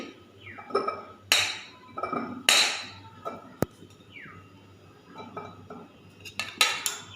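Nutmegs drop into a glass jar, giving several bright clinks and hard knocks against the glass, spaced irregularly over a quiet room hum.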